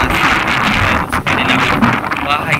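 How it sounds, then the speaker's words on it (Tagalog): Strong seaside wind buffets the microphone near a small patched-together hut by the sea on a hot day, a loud continuous roar with gusty swells, and a voice is heard speaking under it. "napakalakas talaga ng hangin"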